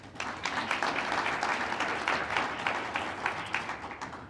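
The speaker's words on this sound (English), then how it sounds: "How about a little round of applause for Joe?" An audience gives a round of applause for Joe, CEO and co-founder of EntreQuest, Inc., at a talk. The clapping is dense and fairly soft, with crisp overlapping claps that hold steady for several seconds.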